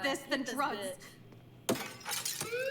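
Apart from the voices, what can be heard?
glass shattering from a hammer in the video game Life is Strange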